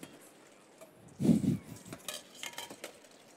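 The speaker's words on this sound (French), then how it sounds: "il faut mélanger tout de suite" A utensil mixing sugar into a crème anglaise base in a bowl, a short burst of scraping and clinking followed by lighter taps, close and fairly quiet, with no one talking.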